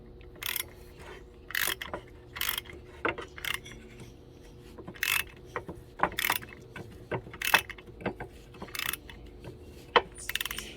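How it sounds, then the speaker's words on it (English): Threads are cut anew on a part of a Kawasaki KE175 motorcycle being rebuilt from a basket case, heard as a series of close, irregular metallic ratcheting clicks and scrapes with short pauses between turns. "Now we're literally cutting new threads"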